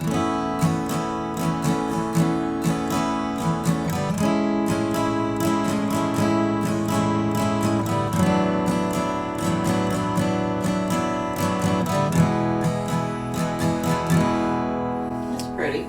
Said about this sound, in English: This is the chord progression that we're going to play